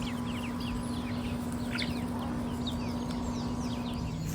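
A small backyard chicken flock clucking and calling in short scattered bursts, fairly faint against a steady background hum, with no talking.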